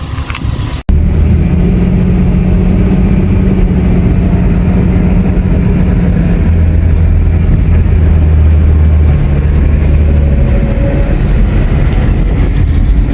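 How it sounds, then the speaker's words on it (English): A Ford Mustang on a test drive gives a loud, constant low engine drone from inside the cabin, with subtle pitch shifts as it moves through gears. "So we about to go for a little test drive around the corner anyway, man. See what it do. Make sure it's still shifting like it's supposed to"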